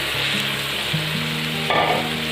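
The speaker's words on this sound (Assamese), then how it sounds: "এতিয়া আমি এই গোটেই গ্ৰেভিটো ইয়াত দি দিওঁ মাছৰ" Fish gravy goes into a hot pan and sizzles loudly and steadily at close range, with a brief rise in the frying hiss near the end and no talking.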